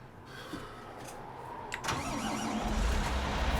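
A big buggy's engine starts up in a farming video game, with a sharp crank followed by a steady, rising mid-pitched idle that grows louder toward the end.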